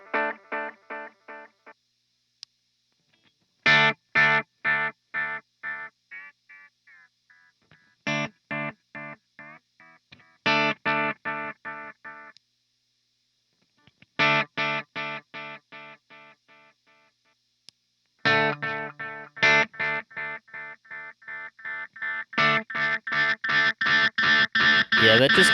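Electric guitar runs through a cheap Amazon delay pedal set to long feedback, each strummed chord followed by a trail of loud, aggressive repeats that decay in bursts separated by short silences.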